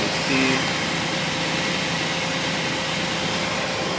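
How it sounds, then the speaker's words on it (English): A 1997 Astro Safari van's engine idles with the air conditioning off, giving a steady, even hum and faint whine at moderate loudness, with a brief murmur of background noise near the start. "Okay, so the engine is on, the air conditioning is off."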